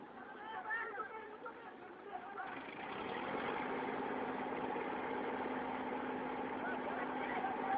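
A tractor engine idles with a steady low rumble and a faint hum, rising a little partway through, while several people chatter loudly nearby.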